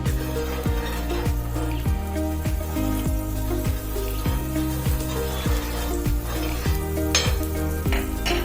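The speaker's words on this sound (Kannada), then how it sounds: "ನಾನು ಇವಾಗ ಸ್ವಲ್ಪ ಬೆಣ್ಣೆ ಸೇರಿಸ್ಕೊತಾ ಇದ್ದೀನಿ." Butter sizzling on a hot tawa for a paneer sandwich, a steady loud frying hiss with repeated sharp clinks and scrapes of a utensil on the pan.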